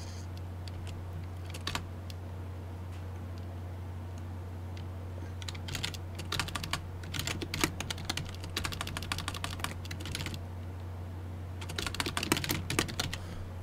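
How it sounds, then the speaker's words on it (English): Computer keyboard typing, scattered bursts of close, crisp key clicks over a low steady hum, growing busier toward the end. "I'll show you what I'm typing for a second"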